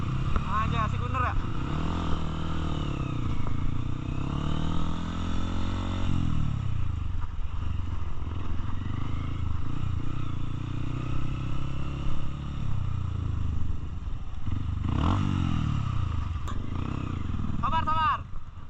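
Trail motorcycles ride and rev on the slopes of Mount Bromo, engines droning steadily with rising and falling pitch throughout, close by and loud, while people talk over them.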